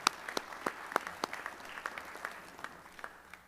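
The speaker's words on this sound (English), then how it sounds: "please give Kane Farabaugh a round of applause as a thank you for being our MC for tonight's event." Applause from an audience at a high school hall of fame induction ceremony, a steady patter of many hands clapping with sharper individual claps standing out, gradually thinning toward the end.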